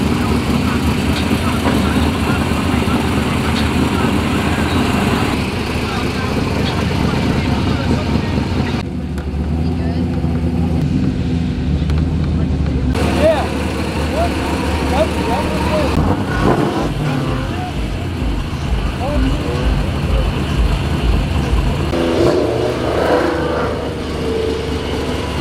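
Modified drift cars at a loud import car show competition, engines idling and revving loudly and continuously amid crowd noise and talk, with a rhythmic throbbing burst partway through.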